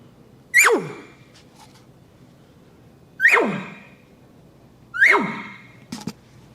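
A bull elk bark imitated with a mouth call, made by blowing air hard across the call and dropping the tongue off it: three sharp, loud barking blasts a couple of seconds apart, each falling quickly in pitch, plus a short soft puff at the end.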